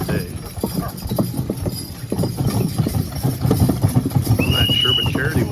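Horse hooves clip-clop at a county fair horse-pulling event while an engine idles nearby, with people talking over the scene and a short high tone near the end.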